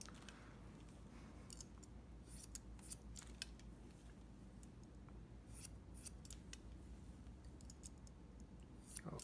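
Scissors snip steadily through thick, straight hair close by, a run of quick, quiet metallic clicks and crisp cuts over a soft background hum.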